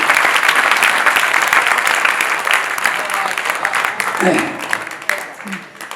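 An audience at a Hindi poetry recital at a Dussehra fair claps steadily in a loud, dense wave of applause that thins out near the end as a voice begins speaking over it.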